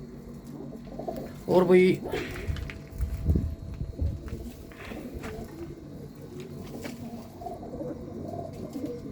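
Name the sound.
pigeons cooing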